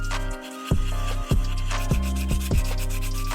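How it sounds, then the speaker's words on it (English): Rhythmic rubbing strokes of sandpaper across acrylic primer on a 1950s hand-crank flashlight casing, about six close, fairly loud back-and-forth passes over a steady background hum, with no voices. "sanding down the primer with precision"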